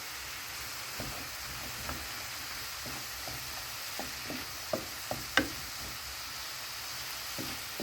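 Cabbage and onion sizzle quietly in a pan over medium heat, a soft steady frying hiss broken by occasional light taps and stirs of a utensil.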